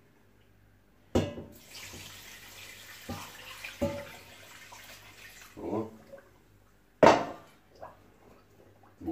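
Brine is poured from a cup over white cabbage kimchi in a series of separate splashing pours and gurgles, loud and close, with a brief voice exclamation in between.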